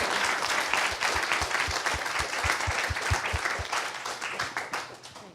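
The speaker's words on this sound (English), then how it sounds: "can we also have a very big round of applause to Ella, Harriet" Sustained audience applause at the close of an academic plenary panel on exhibiting South Asia in Britain, a dense, steady patter of many hands with a few soft low thumps, fading slightly toward the end.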